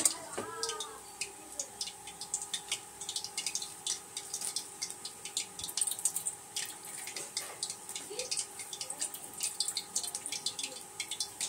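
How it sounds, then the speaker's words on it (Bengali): Water is squeezed by hand out of boiled potatoes, making a quiet, irregular patter of close drips and small splashes that run on steadily with faint clicks between them. "আলু থেকে এক্সট্রা যে জলটা আছে হাত দিয়ে এরকম চিপে জলটাকে বের করে নিতে হবে"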